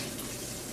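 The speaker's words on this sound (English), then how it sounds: "Let that cold water run on them." Cold tap water runs steadily over boiled eggs in a pan, a close, continuous rushing splash at an even level throughout, with no talking.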